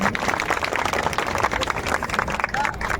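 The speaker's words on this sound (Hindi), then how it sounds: "तो एक बार जोरदार तालियों से" An audience at a hunger-strike gathering in Harda, India, applauds for ex-chief minister Digvijaya Singh, a loud continuous roll of many hands with crowd noise and some voices mixed in.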